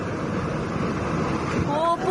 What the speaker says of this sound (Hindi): पानी के साथ साथ मलबा भी बह रहा है